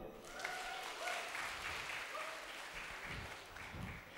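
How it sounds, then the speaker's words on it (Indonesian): A crowd in a convention hall applauds during a career seminar, producing a soft, distant, sustained patter of clapping with faint murmuring underneath. "Mau tepuk tangannya dong."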